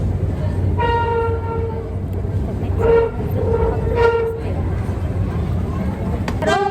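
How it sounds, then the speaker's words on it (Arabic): Metro train in a station heading toward Stadium station, with repeated short horn or signal tones over a steady rumbling train and crowd noise, faint voices in the background. "هنركب مترو ننزل محطة الاستاد."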